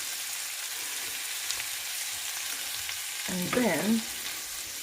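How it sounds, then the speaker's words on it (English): Ingredients sautéing in a pan before prawns go in, a dense close sizzle and crackle of frying throughout, with a brief spoken phrase near the end over the hiss. "So I just saute this for like 2 to 3 minutes."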